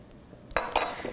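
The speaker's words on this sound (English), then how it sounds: "and start whisking this real good." A metal whisk beats a citrus vinaigrette of squeezed lemon in a bowl, giving a few sharp clinking strokes against the side after a quiet start, close and moderately loud, with no talking.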